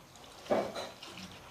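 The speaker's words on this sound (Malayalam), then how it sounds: "ഇനി നമുക്ക് ഈ അവിലൊന്ന് കഴുകിയെടുക്കാം" Brief splash and slosh of water as flattened rice is washed in a bowl, a short soft burst followed by quieter trickling, alone and faint.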